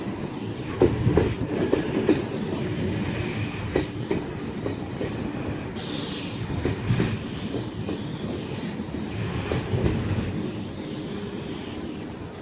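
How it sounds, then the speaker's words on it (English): An S-set electric train rolling into Lidcombe station platform, a steady rumble with clickety-clack of wheels over rail joints and brief high squeals, continuous and fairly close. "At Lidcombe we should have S123 arriving on platform number 0."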